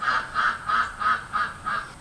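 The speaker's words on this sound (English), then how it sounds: "Y'all hear that? Some ducks talking to me." Ducks call out in a backyard garden, six evenly spaced honking quacks in a steady rhythm, fairly close and clear, with no voices.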